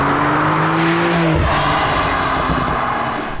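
Porsche 911 Carrera 4S (992) accelerating hard on the road, its engine note rising in pitch through a gear, then a brief dip at a shift before pulling again, loud and close over steady road and wind noise.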